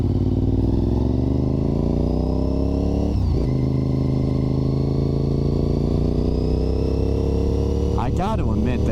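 A Honda RC51 motorcycle engine under riding, a loud continuous drone with rising and falling revs, a brief shift dip partway through and a speaking voice near the end.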